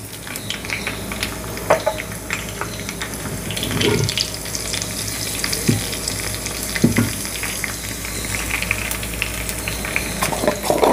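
Garlic, mustard seeds and cumin fry in hot oil in a bronze pot, a loud continuous crackle and sizzle with scattered pops and a few sharper spits, and no voices.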